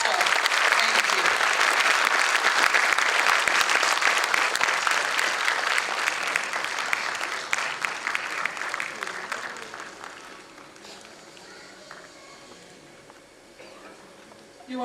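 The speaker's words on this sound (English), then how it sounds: "there's a lot of clapping that has to happen today" Dense audience clapping at a morning gathering, loud and sustained for about seven seconds before gradually thinning and fading to sparse claps.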